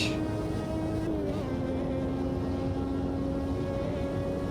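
Simulated 1986 Formula One turbo car engine from Automobilista 2 held at high revs around the German Grand Prix circuit, a loud steady harmonic whine with a brief pitch dip and shift partway through, alone without talk.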